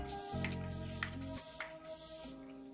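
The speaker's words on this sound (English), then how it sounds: "now I'm going to take my Urban Decay Cool, or it's the Chill setting spray" Urban Decay Chill setting spray gives three short, sharp spritzes in quick succession, close and distinct over soft background music.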